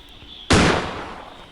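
A single loud gunshot in the Granny horror video game, a sharp blast with a short fading tail, heard alone.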